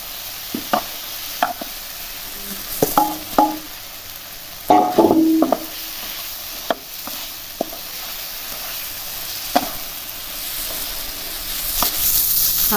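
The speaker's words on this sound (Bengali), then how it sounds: "আলু দিয়ে ভালো করে আবার কষিয়ে নিলাম" Potatoes frying and being stirred with spices in a pan for a cabbage curry, with intermittent scraping stirs and soft sizzling throughout, close and moderately loud, no talking.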